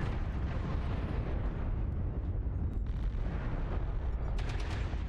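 Artillery fire in the mech combat video game MechWarrior Online, a dense, continuous rumbling barrage of booms filling the whole stretch, loud and sustained with sharper impacts near the end.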